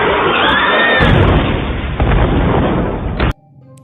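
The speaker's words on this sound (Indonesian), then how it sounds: "Lalu monster itu meledak dan terbakar." A monster explodes in a film with a loud, roaring blast that rumbles for a few seconds with a sharp burst in the middle, then cuts off abruptly.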